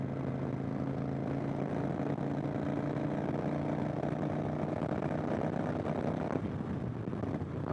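A 2015 Kawasaki Vulcan 900 Classic motorcycle engine drones steadily in fifth gear with wind rushing over it, its tone shifting and loosening just before the end.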